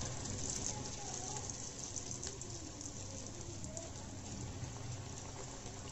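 Chocolate sprinkle doughnuts frying in hot oil, with a faint continuous bubbling hiss and light spattering while the rings are slowly turned over, no clear voices.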